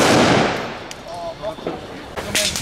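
A firework cake sounds off at a New Year's Eve celebration: a loud burst fades into crackling and a few sharp pops, then another bright crack near the end, with voices faintly audible.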